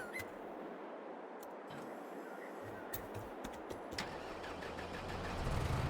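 A tractor engine in the video game Farming Simulator 22 starts and idles with a steady mid-range hum, then swells louder toward the end as it revs up; a faint voice is briefly present.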